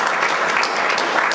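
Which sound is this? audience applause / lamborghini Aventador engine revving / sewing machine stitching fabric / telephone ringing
audience applause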